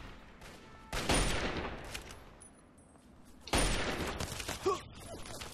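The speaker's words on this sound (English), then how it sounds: "what the hell are they shooting me with?" Gunfire erupts in two heavy bursts aimed at the player in the video game Fallout 3, loud rapid shots separated by a quieter lull.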